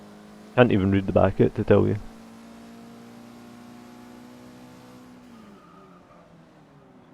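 A Mitsubishi Evo 9 race car in Forza races along with a steady, fairly quiet engine drone. Someone talks over the start before the engine continues alone and then fades.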